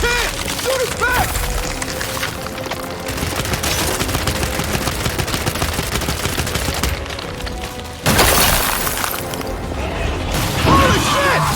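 In the video game Gears 5, sustained gunfire rattles away at a creature's back as dense, continuous automatic shooting. It is layered with mechanical clanks and a heavy impact partway through, and shouted game voices come through at moments.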